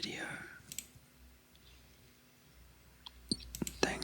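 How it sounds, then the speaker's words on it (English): Sparse computer keyboard typing and mouse clicking during Old School RuneScape gameplay: a few soft clicks early, then quiet, then a cluster of crisp close clicks near the end, with faint whispering at the start. "I will leave you with the keyboard and mouse sounds for the remainder of this video"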